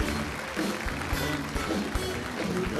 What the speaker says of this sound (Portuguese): Uma salva de palmas para ele, auditório